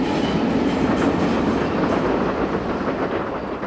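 A train rumbles steadily at Berlin's Ostkreuz station with a dense, continuous roar of wheels on track, loud and close, with faint clattering through it.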